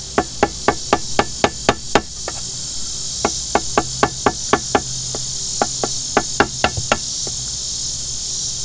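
A rubber mallet taps repeatedly on a part of a 1959 Johnson Super Seahorse 35 hp outboard motor, sharp evenly spaced knocks in quick bursts with brief pauses, close over a steady hiss.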